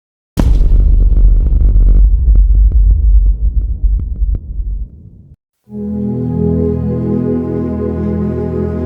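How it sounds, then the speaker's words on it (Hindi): A deep, heavy rumble of thunder at Fairy Meadows near Nanga Parbat rolls for several seconds and dies away, then a steady low droning tone takes over. "बादलों के गरजने की भी आवाज़ है।"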